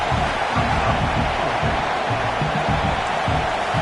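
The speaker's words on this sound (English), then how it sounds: "Crowd trying to help out here on 4th down." Football stadium crowd at a Washington vs. Nebraska game making noise on fourth down, a sustained, loud rumbling roar of many voices with no clear breaks.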